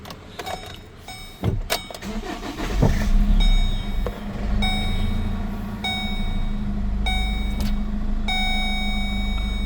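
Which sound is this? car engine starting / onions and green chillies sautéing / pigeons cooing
car engine starting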